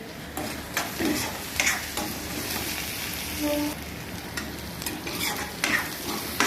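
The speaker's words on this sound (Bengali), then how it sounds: "এই দেখো ভাজা হয়ে যাচ্ছে কিন্তু, ভাজা হচ্ছে, একটু একটু ভাজা হোক" Dried red chillies crackle and sizzle in hot oil, mixed with stirring scrapes and small clinks of a utensil against the pan, at a close and even level.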